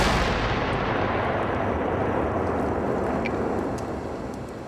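In a test, wet ammonium nitrate mixed with DCCNA explodes with a loud, deep roaring blast that starts at full force and then slowly rolls and fades away without any voices.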